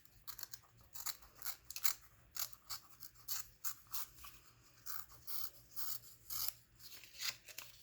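Scissors snipping paper while a journal is assembled, a quick series of crisp close cuts in an uneven rhythm, faint and without talk.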